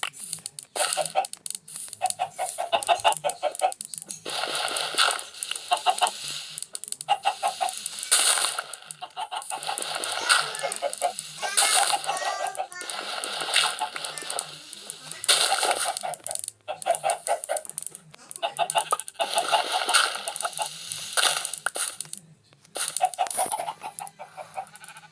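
Chickens cluck and squawk repeatedly in a dense, busy chorus, with rapid bursts of calls and short gaps, loud and close throughout.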